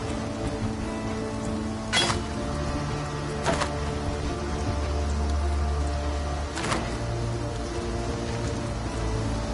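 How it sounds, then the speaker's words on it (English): Steady rain falls in the video game Path of Exile, a dense even hiss with a low drone beneath and a few sharp crackles spaced through it, and no talking. "a ravishing rain."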